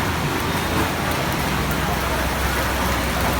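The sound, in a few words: heavy rain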